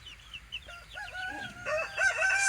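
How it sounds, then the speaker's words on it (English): Young Polish chickens with crested heads cluck and give high warbling calls close by in their pen, a busy overlapping chorus that grows louder toward the end. "So I walked over here to check on our baby chicks."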